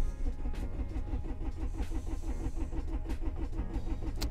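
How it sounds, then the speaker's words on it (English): A car engine on a standalone ECU cranks on a cold start without catching, the starter's rapid rhythmic chugging close and loud for several seconds. "The car tries to crank."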